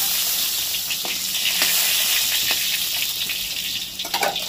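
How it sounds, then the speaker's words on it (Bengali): Cauliflower frying in hot oil in a pan, a steady loud sizzle with occasional crackles and spatters, close and continuous with no talk. "দেখো ফুলকপিটা পুরো লাল করে ভেজে নিয়েছি"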